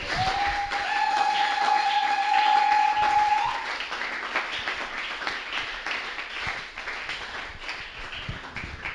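A church congregation claps together in praise, steady dense applause over about nine seconds, with a sustained whistle-like tone in the opening seconds that fades before the clapping thins slightly.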